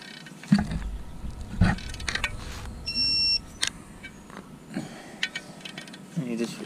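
A Snap-on digital torque wrench tightens bolts on an AP Racing big brake kit to 14 Newton meters. It gives one clear, steady electronic beep lasting about half a second, surrounded by quieter clicks and workshop handling noises.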